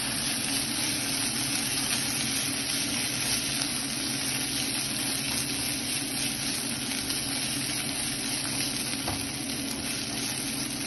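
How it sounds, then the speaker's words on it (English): Ginger garlic paste frying with golden-brown onions in a pan gives a steady, loud sizzle that holds evenly throughout, with faint stirring beneath. "We're going to add our ginger garlic paste and mix until we don't"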